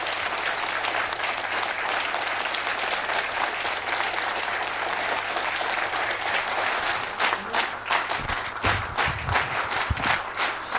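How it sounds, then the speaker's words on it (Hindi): An audience at a training session applauds to welcome a speaker. The loud, sustained clapping fills the room steadily, then thins into scattered claps and shuffling toward the end, with a low electrical hum underneath. "जोरदार तालियों के बीच में स्वागत करते हैं चेतन सर का"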